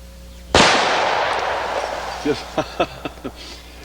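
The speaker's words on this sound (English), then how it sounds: "I just enjoy shooting these water bottles" A 460 Rowland carbine fires a single loud, close shot at water bottles outdoors, the sharp blast trailing off in a long echoing tail, followed by a few short voiced sounds.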